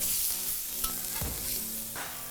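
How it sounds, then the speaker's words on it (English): Burgers with mustard on top sear on a hot grill just after flipping, giving a loud, continuous close sizzle with a few small pops and scraping touches. "I'm gonna flip my burgers one more time, and I'm gonna put mustard on it, like that. Get one more nice sear."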